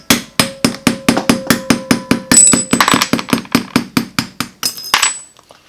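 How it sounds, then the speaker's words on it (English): A plastic hammer strikes the tappet of a crusty, seized Cummins CP3 injection pump, making a rapid, steady series of about two dozen loud, sharp knocks, close and alone, with brief metallic ringing. "I always use a plastic hammer so that way you're not going to damage the surface."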